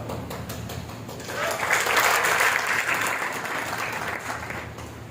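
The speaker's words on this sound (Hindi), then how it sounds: "ताली आपने गलत बजाई, तालियां गलत बजाई" An audience applauds during a Hindi motivational talk in Wardha. The clapping builds to a loud, dense swell in the middle, then tapers off slightly toward the end.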